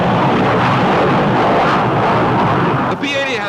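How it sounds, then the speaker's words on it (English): P-80 Shooting Star jet plane engine roaring at takeoff, a loud steady broadband roar that dips briefly near the end, heard in an old newsreel with a narrator talking. "The mighty jet engine roars into action and the plane's airborne."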